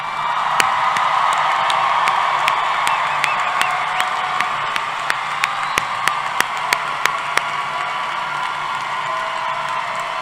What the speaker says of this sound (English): Graduates, please stand and let's give you another big round of applause.